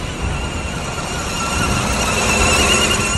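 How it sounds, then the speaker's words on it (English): A steady, high-pitched squeal from a noisy alternator rides over a running Nissan Qashqai engine, continuous and fairly loud throughout. "Sounds like a noisy alternator to me."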